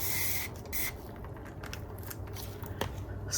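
Aerosol spray hissing into the inside of a small resin tray with dried flowers, two short bright bursts near the start followed by quieter scraping and handling sounds, close and fairly faint.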